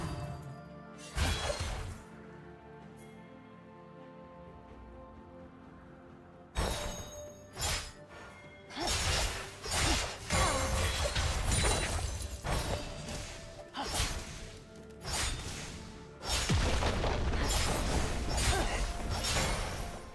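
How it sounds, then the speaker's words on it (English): A League of Legends turret being destroyed during a top-lane Riven versus Poppy match: loud crashing, shattering impacts and whooshes in several heavy bursts, with no talk. "Your team's turret has been destroyed."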